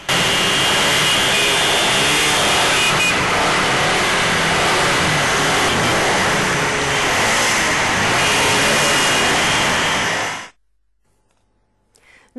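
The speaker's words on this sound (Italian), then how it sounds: "a salutare per l'ultima volta il condottiero è stato il rombo dei motori" Car engines roar in a loud, sustained rev as a final salute at a farewell, a dense continuous growl with swelling revs for about ten seconds before cutting abruptly to near silence.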